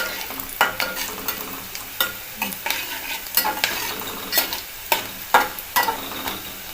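Chopped onion and curry leaves fry in a pan over medium heat and get stirred, a steady sizzle broken by frequent sharp scraping strokes of the spoon at a fairly quick, uneven rhythm, close up and clear.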